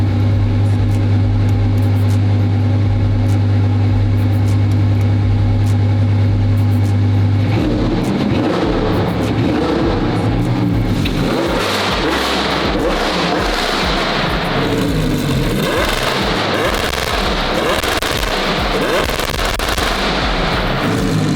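A Lamborghini Huracan engine holds a loud, steady drone, then breaks into hard revving with rapid, crackling bursts that sound almost like gunfire. No one speaks.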